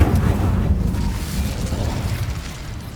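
A fire spell cast in Hogwarts Legacy bursts out as a deep, rumbling whoosh of flame that swells at once, then rolls on and slowly fades over a few seconds, loud and close with no voices.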